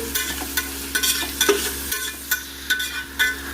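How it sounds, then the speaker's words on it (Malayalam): Onions sautéing in a pan for soya chunks biryani, a rhythmic series of spoon scrapes and taps over a soft sizzle, close and fairly loud, with no voices. "സബോള, സബോള ഇട്ടൊന്ന് വഴറ്റുക."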